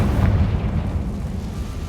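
A Confringo fire spell explodes in the video game Hogwarts Legacy, a loud, rumbling blast with a low booming body that swells early and then rolls on steadily without letting up.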